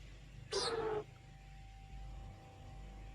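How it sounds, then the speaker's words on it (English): A bird's single piercing, metallic screech rings out in a forest for about half a second against a quiet, faintly humming background. "Each dive is followed by a piercing metallic screech that echoes through the trees."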